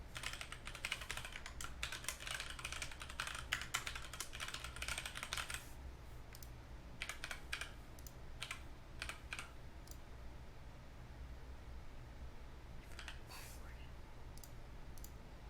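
Password being typed on a computer keyboard: quiet clustered clicking of keys under a steady low hum, with dense bursts early on, then sparse isolated keystrokes.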